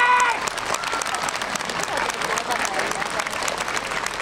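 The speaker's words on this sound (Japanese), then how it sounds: "ではこの3名いずれかに拍手の方をお願いします。" Audience applause at a muscle contest held during a Japan Ground Self-Defense Force Himeji garrison anniversary event, a brief dense wash of crowd clapping with some cheering.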